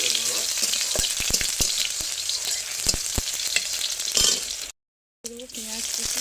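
Tomatoes and panch phoron spitting in hot oil in a wok, a steady loud sizzle crackling with sharp pops, cut by a brief dead silence, with a faint voice underneath.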